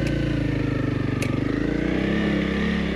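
A Honda CRF 300 Rally motorcycle revs hard while stuck in sand off-road, its engine churning in a steady, throbbing drone that holds close and loud.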